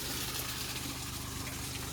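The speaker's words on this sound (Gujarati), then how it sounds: "હવે નેર આવી એટલે નેરનું પાણી અંદર જાય છે" Canal water runs into an old, narrow, forty-year-old well in Rajasthan, a faint, constant rushing gush with no pauses.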